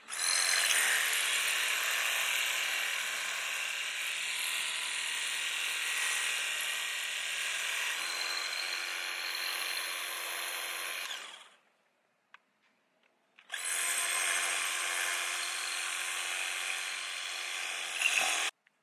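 A cordless 20V electric pressure washer runs a rinse with a steady high-pitched motor buzz and spray hiss for about eleven seconds. It stops for a short silence, then starts again and runs until the end.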